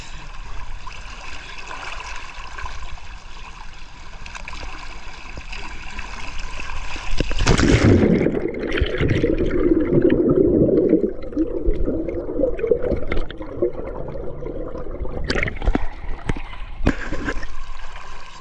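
Continuous rushing and trickling water from a flowing stream, growing louder and splashier midway, heard close by without talk.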